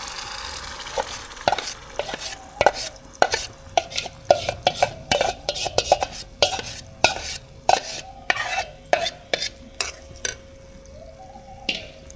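Spoon or spatula stirring milk powder with milk and sugar in a hot pan for peda, a quick series of scraping, clinking strokes against the metal over a soft sizzle, close and steady with no talk.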